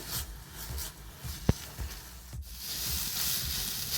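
Grated carrot for halwa sautés in ghee over a medium flame. A soft, steady sizzle grows slightly toward the end, with one sharp tap of a utensil partway through. It is quiet and close, with no speech.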